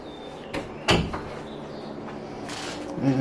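A laundry room pantry door inside a downtown apartment swings shut, giving a sharp close-range knock with a second softer bump and faint rattles in a quiet room.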